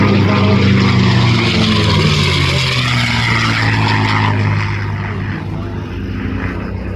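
A P-51D Mustang propeller fighter flies past at an air show demonstration, its loud piston engine roaring with a deep, throbbing drone that gradually recedes and softens over several seconds.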